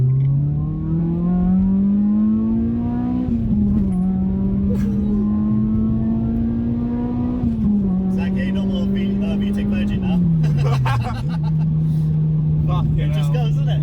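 Tuned Honda Civic EP3 Type R heard from inside as it accelerates hard, engine tone climbing steadily through the gears with drops at shifts, loud and constant, with people talking over it.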